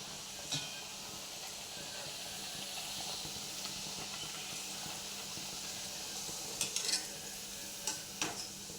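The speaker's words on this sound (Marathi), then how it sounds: "तेल तापत ठेवलं आहे आणि आता ह्या पुऱ्या अशा छानपैकी टाकायच्या" Spiced salt puris frying in hot oil, a steady close hiss and sizzle that runs the whole time, with a few sharper crackles and bubbling pops toward the end.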